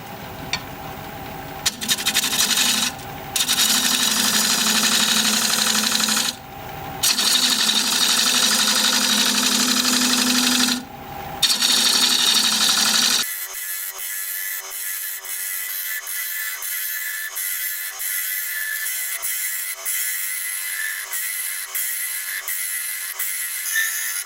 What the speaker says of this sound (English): I'm going to start with a 5/8 inch bowl gouge. We're going to be turning at 700 RPM.